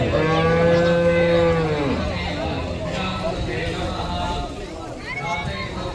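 Cattle gathered in Jaffna moo in long, drawn-out calls, one loud low bellow at the start and others trailing behind, amid a crowded outdoor din with people talking.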